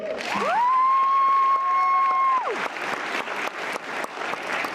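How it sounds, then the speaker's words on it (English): Audience applause and cheering after a speech, a long sustained whoop rising over the crowd at first, then clapping carrying on loudly and continuously. "so clap it up for me."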